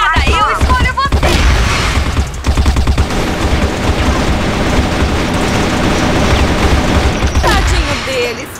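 A grenade blast and continuous rapid gunfire in the shooter CrossFire, loud and dense throughout with booming hits, while a voice talks excitedly over the fighting.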